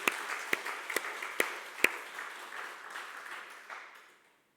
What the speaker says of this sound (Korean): 우리 주님 앞에 감사 영광 박수 한번 올려요.